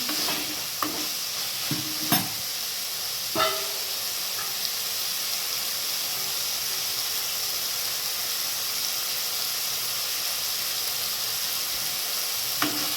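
Chicken frying with garam masala in a pan gives a constant close hissing sizzle, with a few scraping stir strokes early on before the frying settles into an even hiss.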